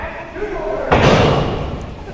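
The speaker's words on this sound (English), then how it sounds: "Melissa just slamming Lufisto's head down the canvas." A wrestler's head is slammed down onto the ring canvas during a live wrestling match, landing as one loud, sharp thump amid the noise of the crowd and the commentary.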